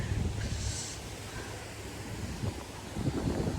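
Steady wind buffeting the microphone beside a canal lock, with low rumbling gusts, continuous throughout, with a faint hiss and louder swell near the end.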